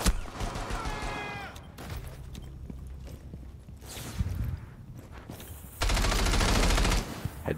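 Gunfire in Rainbow Six Siege, sharp scattered shots and a short burst near the end amid footsteps and clattering movement, fairly quiet overall.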